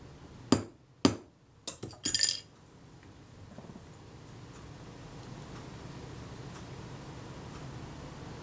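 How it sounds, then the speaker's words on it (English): A few sharp metallic taps from a small hammer on a Kodak Retina IIIc camera under repair, spaced unevenly in the first couple of seconds, then quiet room tone. "And a light tap with the hammer."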